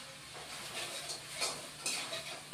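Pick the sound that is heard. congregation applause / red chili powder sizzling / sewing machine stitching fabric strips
red chili powder sizzling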